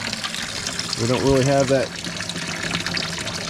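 Water runs from a tap fed by a finicky pump at a dispersed campsite in the Ouachita Mountains, a steady trickling flow under a man's brief speech.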